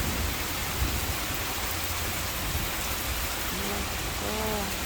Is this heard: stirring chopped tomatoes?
no